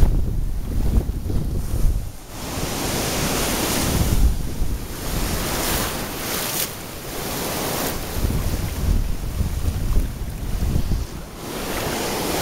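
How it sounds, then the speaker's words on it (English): Arabian Sea surf rolls onto a beach at Gokarna, India, a loud, continuous wash of breaking waves swelling and receding, mixed with gusty wind buffeting the microphone and no talking. "The waves were even bigger yesterday, and they were pretty pretty decent."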